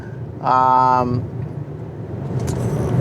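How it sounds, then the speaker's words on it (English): A Kia K4 hatchback spins its tires pulling away in first gear, a brief loud tonal engine-and-tire whine rising over steady road rumble, then settling into cabin noise with a voice talking. "let me put it in first gear. Oh, look at that. I was able to spin some rubber there"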